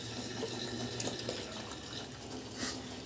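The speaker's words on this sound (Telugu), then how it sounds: "నీళ్ళు నింపుతున్నాం." Water runs steadily from a tap into containers, a close continuous splashing stream with small fluctuations as the vessels fill.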